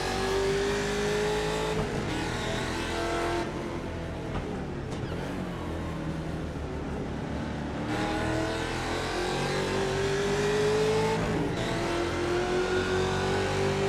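A Ford Mustang race car with antique suspension runs during a race, its engine a loud, continuous roar that rises and falls in pitch through gear changes and acceleration for the whole stretch.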